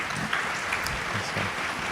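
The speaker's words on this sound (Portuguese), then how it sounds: "já estão aplaudindo lá" An audience at an agro-industry innovation panel applauds in a steady, even wash of clapping that carries on throughout, moderately loud and slightly distant.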